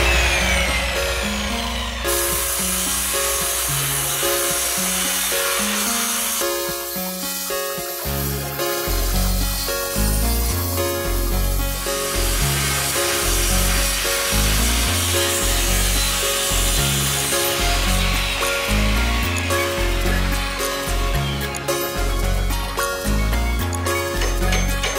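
Pallet wood being cut to size with a hand saw, close and loud, in a steady series of rhythmic back-and-forth strokes that speed up partway through, with no talking.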